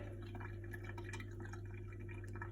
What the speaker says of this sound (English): that's draining the boiler, and we're keeping the water in the rest of the system